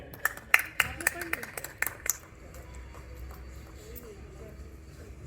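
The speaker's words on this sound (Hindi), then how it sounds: "आदरणीय पन्नालाल लसन जी के लिए एक बार जोरदार तालियां बजाएं" Audience at a Hindi kavi sammelan poetry gathering breaks into a short burst of clapping, sharp and lively for about two seconds before dying away into quiet room murmur.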